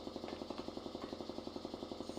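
A drill in the adventure game Grim Fandango whirs in a fast, steady pulsing rhythm, quiet but continuous and alone throughout.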